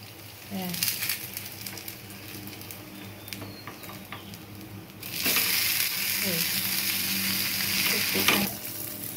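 Uttapam batter frying in a hot pan, a steady soft sizzle that swells louder midway as more batter or cheese goes in, with a few clinks of utensils.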